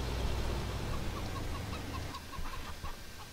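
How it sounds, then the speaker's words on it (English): Chickens cluck softly in a farming game, roaming beside cows, with a rooster among them. The clucks come in a steady patter over a constant low background hum. "And your chickens are roaming right next to the cows."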